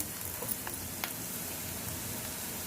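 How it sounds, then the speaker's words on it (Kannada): Chili powder frying briefly in hot oil, giving a steady low sizzle with a few faint clicks and no talking. "ಈ ಎಣ್ಣೆಯಲ್ಲಿ ಒಂದು ಸ್ವಲ್ಪ ಹೊತ್ತು ಖಾರದ ಪುಡಿ ಮಾಡಿಬಿಟ್ರೆ ತುಂಬ ಚೆನ್ನಾಗಿರುತ್ತೆ"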